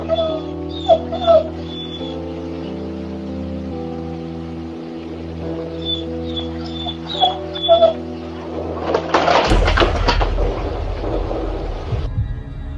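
Two German Shepherd dogs left home alone at night let out high, thin whimpers and yips in short bursts over a low steady hum, followed by a louder burst of noisy commotion near the end.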